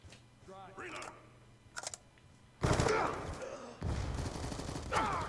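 Gunfire in Black Ops 2 on the Nuketown 2025 map: rapid automatic bursts, loud and close, alternate with quieter stretches, and game voices and speech are heard between and under the shots.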